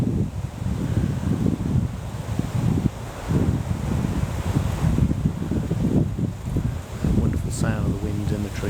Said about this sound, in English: Sound of the wind in the trees.